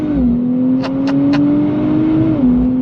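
A 2024 Nissan Z Nismo engine drones steadily as it accelerates on throttle, a smooth rising hum with a few quick shifts in pitch through its 9-speed transmission, close and fairly loud.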